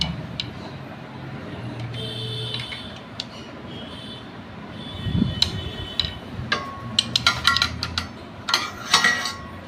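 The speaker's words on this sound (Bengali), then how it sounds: "এখান থেকে ড্রাইভার দিয়ে দেখবো" Screwdriver tapping and probing the rocker arms of a Royal Enfield 350 engine, giving scattered close metallic clinks and ticks that grow busier toward the end over a low steady background.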